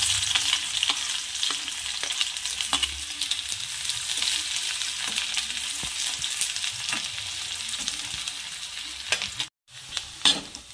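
A large onion sizzles in hot oil for a methi and green pea sabzi, a loud, continuous crackling fry with occasional stirring scrapes and one brief pause near the end.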